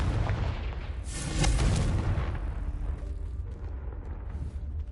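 A Confringo spell explosion from Hogwarts Legacy: a deep booming blast swells sharply, then rumbles and fades into a low, lingering roar, with no talking over it.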